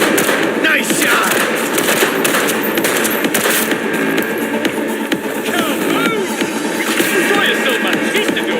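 Rapid gunfire in the video game Cyberpunk 2077, dense clattering bursts that run continuously over a busy combat mix of shell clinks and shouting voices.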